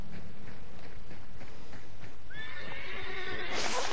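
A horse in a multiplayer video game lets out a loud, close neigh near the end, rising and then breaking into a bright whinny, after a short stretch of quieter game sounds.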